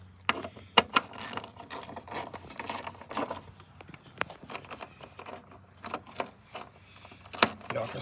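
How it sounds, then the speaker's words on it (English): A mini ratchet clicks in quick bursts while tightening a headlight screw on a Jeep Liberty, the pawl chattering up close with brief pauses between strokes. "Y'all can see I'm using a mini ratchet."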